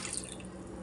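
A cup of water is poured into a pot of moong dal with green chilies, garlic and tomato, making a brief, soft trickle that stays quiet and even.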